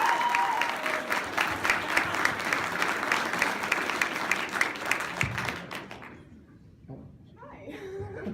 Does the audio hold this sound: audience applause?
yes